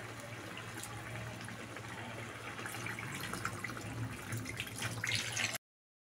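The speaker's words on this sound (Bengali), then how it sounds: "জল দিয়ে দিলাম, এই এতটুকু মতনই জল দিলাম" Water is poured from a blender jar into a pan of bele fish oil curry (tel jhol), Bengali style. A steady, close splashing pour runs for several seconds with no talk, then cuts off abruptly.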